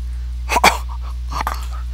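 A dog gives a couple of short barks or yips close by, two quick bursts near the start and another softer one later, with a low steady hum underneath.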